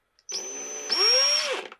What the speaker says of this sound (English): reverse the way the drill goes, and then kind of hold it all together